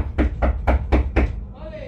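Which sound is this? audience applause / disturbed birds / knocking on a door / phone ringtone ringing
knocking on a door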